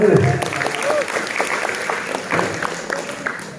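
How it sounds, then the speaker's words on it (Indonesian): An audience at a school extracurricular induction talk show claps briefly at moderate volume, scattered rather than thunderous, while a voice carries on over the applause. "Oke, tepuk tangan dulu."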